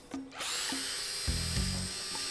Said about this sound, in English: I also brought an electric chainsaw for firewood.